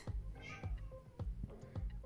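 A house cat meows close by in a quick series of short, rhythmic calls, about four in two seconds, fairly quiet.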